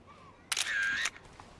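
Single-lens reflex camera snapping a photo: one sharp shutter click and a brief mechanical whir, close and alone in a quiet room.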